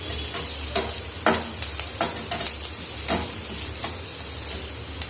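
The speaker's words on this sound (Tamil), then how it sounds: "வெங்காயம் நல்லா வதங்கிருச்சுங்க" Onions with cumin sizzle and stir-fry in a pan for banana flower kootu, a constant close hiss broken by occasional scraping stirs.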